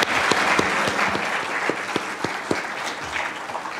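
Audience at a Penn State faculty forum applauding, a dense wash of clapping with distinct individual claps popping out near the front, fading slightly toward the end.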